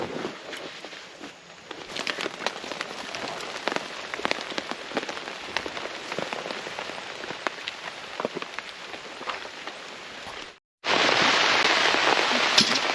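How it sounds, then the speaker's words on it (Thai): Steady rain falls during a fishing trip along a forest creek, a dense patter of drops on surfaces with scattered louder splats, briefly cutting out near the end before returning as a heavier, brighter downpour. "ฝนตกมาแล้วครับ"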